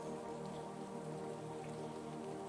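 Steady rain falls in a dense, even patter of drops that holds constant throughout without pauses.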